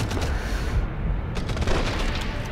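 Dense gunfire from a World War II shooter, Enemy Front, during a firefight against a German sniper team: continuous loud bursts and booms with no pauses.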